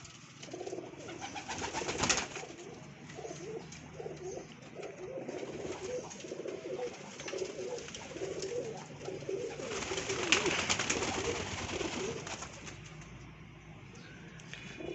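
Many pigeons coo continuously in a dense, murmuring chorus, with occasional wing flutters and scattered rustling nearby.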